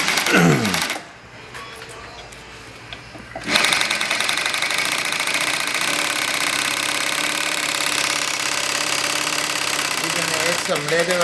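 An AtlasUSA AT2150M industrial zig zag sewing machine stitching leather runs with a loud, steady mechanical whir and rapid needle rhythm after a brief quieter pause near the start, continuing close and constant to the end.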